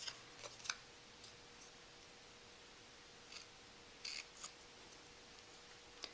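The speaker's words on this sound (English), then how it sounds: "kind of cut up into the center, and then cut from each side into that center point" Scissors snipping through the end of a paper banner, a few short, crisp cuts spaced apart in a quiet room, close and fairly soft.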